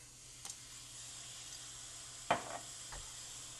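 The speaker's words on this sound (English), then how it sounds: "Hear that sizzle." Ice cubes dropped into a hot Dutch oven while baking sourdough bread give a sudden short hiss and sizzle, then a fainter second burst, quiet against steady background noise.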